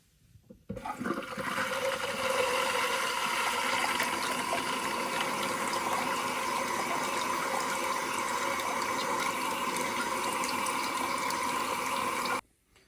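A toilet tank refills after repair work, with a loud, steady hiss and rush of running water that starts abruptly, holds evenly for about twelve seconds, then cuts off.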